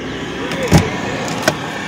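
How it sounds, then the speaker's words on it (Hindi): Inside a 2003 Mercedes-Benz E240 Elegance, a handbrake lever is pulled up over a steady cabin hum. Two brief mechanical clicks sound up close, the first louder, the second about a second later. "आपको ये लीवर ऊपर खींचना पड़ेगा, तो आपका वो हैंड ब्रेक वहाँ से रिलीज हो जाएगा"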